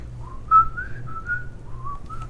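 A man kneels and whistles a short, wandering tune while picking a lock in a tabletop role-play game, the clear melody rising and falling close to the listener over a low background hum.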